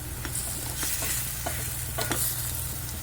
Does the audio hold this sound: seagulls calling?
no